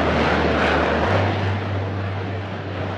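Harrier jump jet aircraft engine, a loud sustained roar with a steady low drone that shifts pitch partway through, continuous and fairly close.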